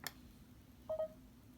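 A short pair of soft electronic beeps from a phone, faint against a quiet room, preceded by a small click, near a Lenovo IdeaPad V570 laptop being powered on.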